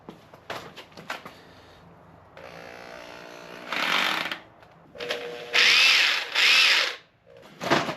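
An electric drill whirs in several short bursts, rising to loud high-pitched spins separated by pauses and a few clicks.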